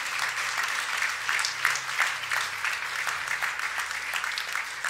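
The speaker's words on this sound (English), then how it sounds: "everybody give it up. Clap for him." A church congregation applauds during a baptism Sunday service, a sustained crowd clap with distinct individual claps standing out rhythmically, fairly close and steady throughout.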